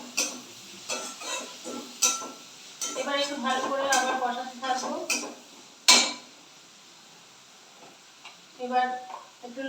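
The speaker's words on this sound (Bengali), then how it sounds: "পেঁয়াজ রসুন বাটাটা দিয়ে দিচ্ছি" Onion and garlic paste sizzling in a frying pan while rohu roe is cooked with yogurt: a steady frying hiss with metal utensil clinks and scrapes, and someone talking over it.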